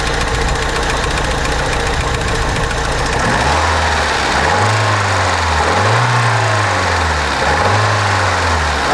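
A 1995 Fiat Tempra Turbo engine running loud and close, its steady rough mechanical rumble swelling into three rising-and-falling revs in the second half.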